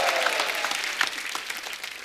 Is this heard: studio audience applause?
yes